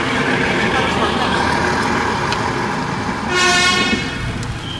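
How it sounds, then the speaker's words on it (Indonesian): A city train in Solo sounds a horn near the end, a harmonic stacked tone lasting under a second over steady loud street and traffic noise. "Ya, itu kereta di dalam kota."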